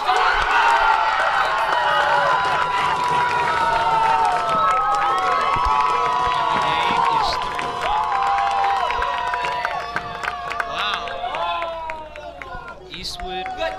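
Home crowd cheering at a girls' varsity soccer game between Eastwood and Eastlake, a dense sustained roar of shouts and whistles that eases off toward the end, with a commentator's voice running over it.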